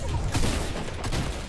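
Rapid minigun fire in the Fortnite video game, a dense burst of quick gunshots lasting about a second and a half, close and fairly loud.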